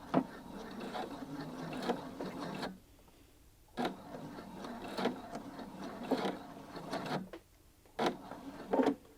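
A sewing machine stitching fabric and reverse stitching back and forth, heard as several bursts of rapid mechanical rattling with short quiet pauses between runs.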